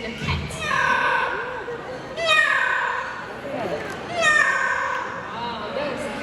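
A parrot at a bird park mimics a cat's meow, giving three drawn-out, whiny meow-like calls spaced about two seconds apart, close and clear, over a background of crowd and children's chatter.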